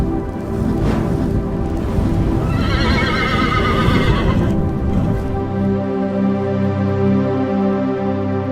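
A horse gives a loud, close, quavering whinny lasting several seconds, with snorting and clip-clop hoof sounds beneath it, then a quieter steady tone follows after the call ends.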